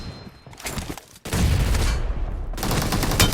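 Rapid bursts of automatic gunfire in the mobile battle game PUBG Mobile, loud and close, with a brief lull before dense, sustained firing resumes.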